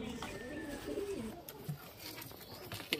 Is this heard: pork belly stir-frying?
no